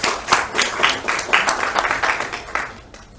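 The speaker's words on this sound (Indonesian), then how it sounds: "Tepuk tangan buat Anda semuanya." Applause from a seminar audience at an Islamic finance event, a steady patter of many hands clapping for about three seconds before it tapers off near the end.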